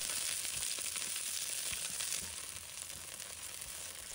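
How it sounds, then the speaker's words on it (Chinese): Chopped scallion and garlic sizzle steadily in hot cooking oil in a wok, a continuous faint frying hiss with small crackles, no talk. "倒入适量的食用油，放入切好的葱和蒜，"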